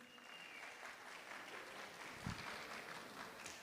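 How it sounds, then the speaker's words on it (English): At a Freedom Month community dialogue, an audience applauds in a dense, continuous patter of clapping heard from a distance and fairly faint, steady throughout the short stretch. "A round of applause, please."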